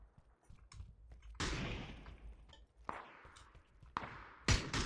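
Sharp bursts of gunfire in the video game PUBG crack out repeatedly, each shot ringing into a brief noisy decay, with scattered clicks and rustles in between.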